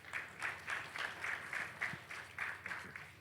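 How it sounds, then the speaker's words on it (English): Faint applause from an audience welcoming a speaker to a fireside chat at an ETHGlobal crypto conference, with soft, steady clapping in uneven pulses heard from a distance and no talk. "So please give him a big round of applause."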